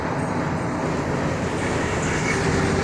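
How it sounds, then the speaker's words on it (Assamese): A train passes nearby, giving a continuous broad rumbling roar that holds steady and fairly loud throughout, with no talking. "সেইফালে ট্ৰেইন গৈ আছে।"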